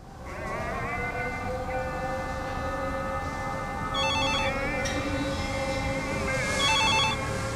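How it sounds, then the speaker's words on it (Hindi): A telephone bell rings in repeated bursts over a steady, low mechanical rumble, fairly loud and close. "गुरुवार की सुबह फोन की घंटी बजी।"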